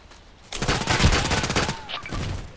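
Dense rapid gunfire from the Contract Wars video game, a loud sustained burst of overlapping shots running for about a second and a half, then a few trailing reports.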